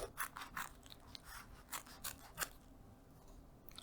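Scissors snip through a marked craft piece, a quick series of about eight crisp, close cuts in a quiet room with no talking.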